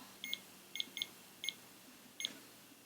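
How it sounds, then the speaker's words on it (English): A REM pod's temperature sensor alarm in another room gives faint, high, short chirping beeps, about five bursts, some doubled, at irregular intervals over a quiet background. "the temp sensor of the REM pod's going off in the other room"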